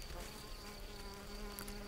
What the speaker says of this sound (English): It's no easy task for a small bee like the red-tailed mason.